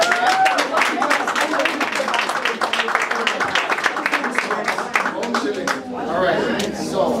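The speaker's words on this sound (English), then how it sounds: "Let's give him another round of applause." Audience applause and clapping at a leadership kickoff event, dense and steady throughout with crowd chatter and voices mixed in.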